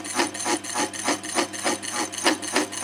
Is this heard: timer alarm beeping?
no